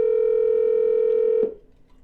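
A telephone line tone holds steady and loud for about a second and a half while a call is redialed, then cuts off abruptly into faint line noise.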